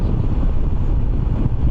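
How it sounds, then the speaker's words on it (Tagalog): Heavy wind roars against the microphone in a steady, low rumble with no voices, loud and close throughout, on a steep descent near a view deck at Calatagan during an ADV160 motorcycle ride. "Ang lakas ng hangin, no?"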